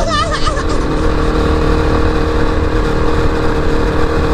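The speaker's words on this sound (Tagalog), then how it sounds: "Sports bike type naman itong motor guys." A Motorstar Z200X sports motorcycle engine, swapped into a Yamaha Mio i125 scooter, revs and runs loud and close for the whole stretch, with a steady rumbling drone.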